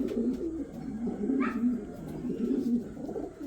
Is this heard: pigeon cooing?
yes